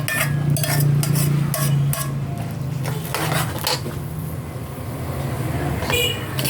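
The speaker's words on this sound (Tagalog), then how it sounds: "Ato na dayon ilunod ang ato ang munggus." Mung beans stirred into a cooking pot, with scraping and clinking of a utensil against the pot and soft sizzling, close by, while a voice talks over parts of it.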